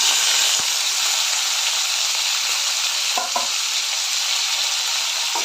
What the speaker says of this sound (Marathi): सर्व घालून चांगलं परतून घेते